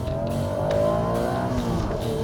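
A first-generation Honda NSX engine revs with a smooth, high, rising tone, heard close and steady for a couple of seconds with no voices.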